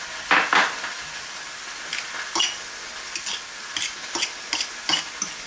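Beaten egg being mixed into squash fritter batter in a bowl, a series of rhythmic utensil scrapes and taps against the dish, close and alone.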